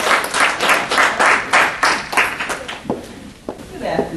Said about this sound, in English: Let's give a round of applause, Mrs. Turpin, Ms. Velma Turpin